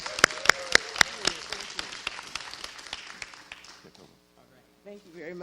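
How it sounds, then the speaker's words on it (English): Congregation at a New Beginnings Christian Fellowship gathering breaks into applause, a burst of sharp claps that thins out and fades over a few seconds, then quiets as a voice begins. "applause."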